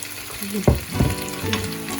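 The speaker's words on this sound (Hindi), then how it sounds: "अब इसके ऊपर मैं डालूंगी थोड़ा सा ऑयल" Oil poured onto hot charcoal set in the middle of a pot of chicken malai tikka, giving a few close, brief sizzling bursts and crackles.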